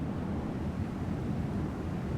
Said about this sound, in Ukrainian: Чорт, почався вітер.